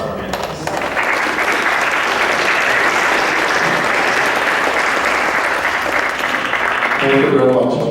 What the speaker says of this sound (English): I want to just another round of applause for our panelists.